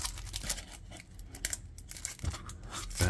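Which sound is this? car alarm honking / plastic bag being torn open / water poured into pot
plastic bag being torn open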